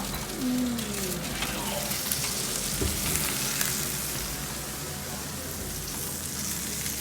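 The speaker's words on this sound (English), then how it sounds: "It's sizzling." Steady, loud sizzling of hot Peking duck skin fresh from the oven, a dense crackling hiss that continues throughout with no talking.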